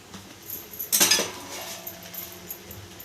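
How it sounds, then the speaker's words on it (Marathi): Spoon stirring masala rice in a pot, a few light metallic clinks and scrapes, one sharper clatter near the start, otherwise quiet. "छान मिक्स करून घ्यायचं"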